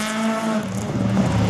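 Race car in the L2000 group accelerating past at a hill climb event in France, a steady engine drone with a strong harmonic tone that sweeps lower as it goes by, loud and close with no talk.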